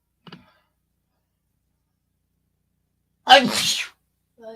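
A single loud, close sneeze bursts out after near silence, preceded by a faint brief voice, with a short spoken remark following it.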